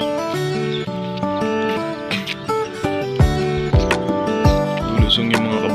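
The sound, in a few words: horses walking down into the water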